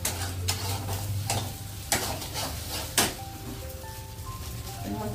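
Eggs being scrambled and fried in a pan give a soft steady sizzle, broken by a few sharp scraping clicks of a utensil stirring against the pan.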